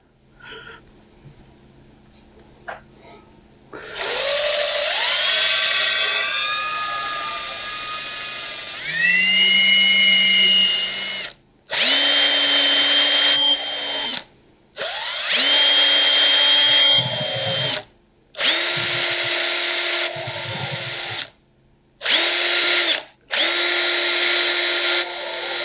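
A small wire wheel on a cordless impact driver whirs in a series of high-pitched bursts while cleaning a spark plug, starting and stopping repeatedly with short pauses between loud spins.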